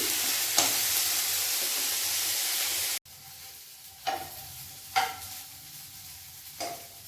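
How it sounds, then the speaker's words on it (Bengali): Corn frying in a pan with salt, a soft sizzle at first, then a quieter hiss broken by several short stirring scrapes, close and without talk. "এটা একটু ফ্রাই করে নিই"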